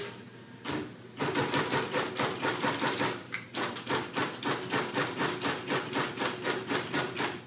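A Bernina Q24 longarm quilting machine sews long basting stitches down the side of a quilt, a loud, close, rapid rhythmic clatter of needle strokes that starts after a brief pause and continues steadily.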